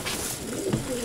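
Pigeons coo softly at close range, giving a short throaty call near the end over a faint background murmur.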